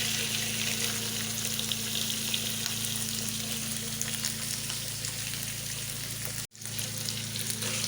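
Pork fries in a pan with a steady, loud sizzle that continues unbroken, cut by one brief dropout near the end, with no voices.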